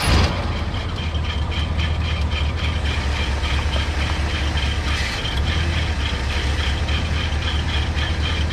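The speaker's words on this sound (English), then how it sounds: "I'm gonna fire the truck up and turn the wheel and figure it out right now." A 1984 Ford F-150 truck engine runs at a steady idle, a loud continuous low rumble with mechanical chatter, close by and alone without talk.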